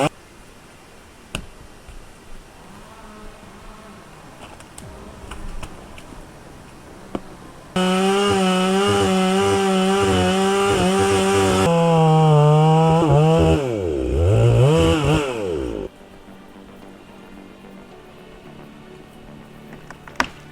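A chainsaw cuts into a birch tree, revving loud and close for several seconds with its pitch rising and dipping under load, then cutting off abruptly, with quieter outdoor background before and after.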